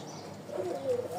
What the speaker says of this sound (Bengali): খুব ভালো ফ্লাইং এর কবুতর।